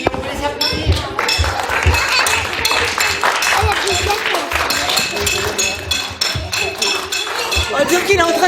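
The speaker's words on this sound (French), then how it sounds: "Merci, on peut les applaudir." Children clap together in a classroom, a dense stretch of hand claps with clinking and knocking mixed in, while voices talk over it.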